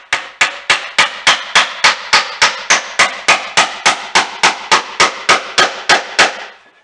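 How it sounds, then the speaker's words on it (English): Steady hammer strikes driving nails into tongue-and-groove knotty pine boards, about twenty sharp taps at an even quick pace, close and loud, with no voices. "that's the bad part about using a hammer"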